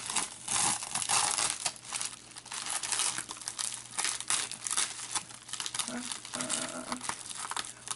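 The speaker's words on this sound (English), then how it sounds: "Also, I need to take this off, this tape off," Tape being peeled and pulled off a sunshade during a repair, a steady run of crinkling, tearing rips close to the microphone with speech-like sounds mixed in.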